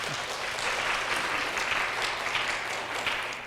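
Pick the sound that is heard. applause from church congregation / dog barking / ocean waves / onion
applause from church congregation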